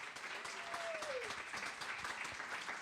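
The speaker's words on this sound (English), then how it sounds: "Let's give all the candidates a round of applause." Audience applause for candidates at a 2022 candidate forum for the 16th Middlesex District, a steady, faint wash of clapping from a room, continuous throughout with no voices over it.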